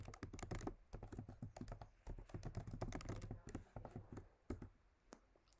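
Computer keyboard typing commands into a Linux terminal during a capture-the-flag hacking exercise, a quick uneven run of close, crisp key clicks with short pauses between bursts, no voices.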